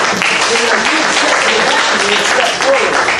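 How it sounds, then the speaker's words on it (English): Audience applause at a student improv comedy showcase, a broadband wash of clapping with voices speaking over it throughout. "Let's give her a round of applause."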